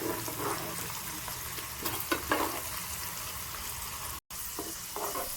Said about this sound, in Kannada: ನೋಡಿ ಚೆನ್ನಾಗೆ ಬೆಳ್ಳುಳ್ಳಿ, ಕರಿಬೇವು, ಒಣಮೆಣಸಿನ್ಕಾಯಿ ಎಲ್ಲ ಫ್ರೈ ಆಗಿದೆ.